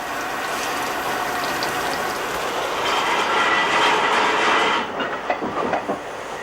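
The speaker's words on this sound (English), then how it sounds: "the King George setting off for a major refit on what is likely to be its last run out on the main line ever" The steam locomotive King George sets off on a run out on the main line, a loud, steady rumble and mechanical clatter that swells midway, then gives way to a few sharp chuffs near the end.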